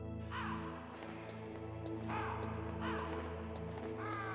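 A crow in Metal Gear Solid caws several times at intervals, each call clear and mid-distance over a low, steady hum.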